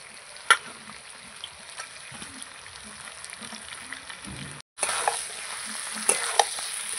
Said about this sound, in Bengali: ওলকচুগুলো দিয়ে ভালো করে নেড়ে চেড়ে নিচ্ছি